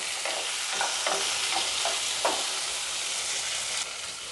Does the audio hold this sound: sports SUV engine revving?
no